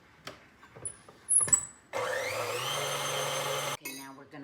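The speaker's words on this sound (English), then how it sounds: "just beat it for another 15 seconds after you've scraped it" An electric hand mixer whirs steadily for about two seconds through mocha frosting made with coffee, preceded by light bowl-scraping clicks and followed by a few knocks after it shuts off.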